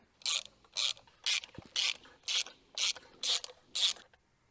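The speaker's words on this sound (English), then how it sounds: "now we're going to remove these spark plugs with a 16mm socket" A 16mm socket ratchet removing spark plugs from a MINI Cooper clicks in eight evenly spaced bursts of rapid clatter, close and fairly loud, with brief quiet gaps and no voices.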